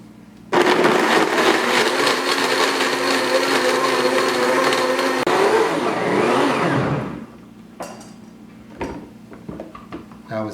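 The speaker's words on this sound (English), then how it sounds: "we're going to blend it on a high speed until it's nice and smooth" A blender runs loud and steady at high speed, whirring through sea moss gel, a dash of clove and ice cubes for an apple pie smoothie. It cuts off after about seven seconds, leaving only faint handling noises.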